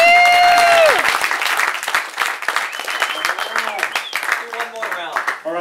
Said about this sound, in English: one more round of applause for Kyle Craig.